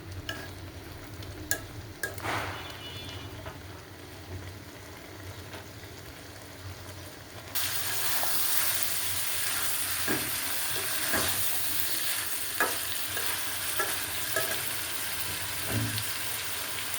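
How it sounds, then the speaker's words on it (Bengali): Prawn and plantain curry fries and is stirred in a pan, a steady sizzle that jumps louder halfway through, with scattered scraping clicks of the spoon throughout. "কলা দিয়ে রান্না করতেছি।"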